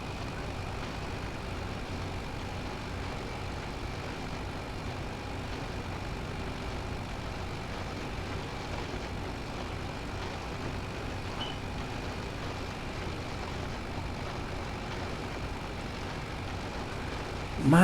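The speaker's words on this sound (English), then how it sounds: "Wow, my poor little tractor." A small tractor mulching on a bumpy road gives off a steady, continuous engine drone with a rumbling low end, holding at a constant level throughout with no talking.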